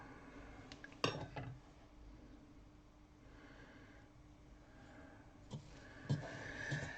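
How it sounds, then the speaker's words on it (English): Dough hook being pulled from a stand mixer bowl after mixing sticky keto bread dough: a sharp metallic clink, then a few softer knocks and clatters, close but quiet over a faint room hiss. "Let's extract the dough hook."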